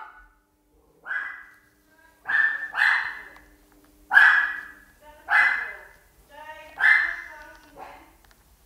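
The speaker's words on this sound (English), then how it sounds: "No, he's barking." A dog barks in repeated single and double woofs spaced about a second apart, loud and close, with people calling out between the barks.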